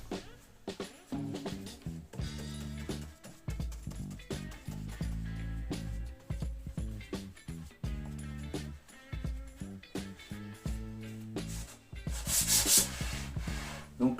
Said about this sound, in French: Donc lasure chêne clair, je vais appliquer ça au pinceau